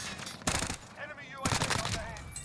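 Enemy gunfire in the Warzone battle royale game, two dense bursts of rapid shots about a second apart, loud and close, over a busy background with faint voices.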